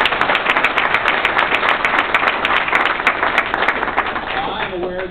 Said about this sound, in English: I think we should give the mayor another hand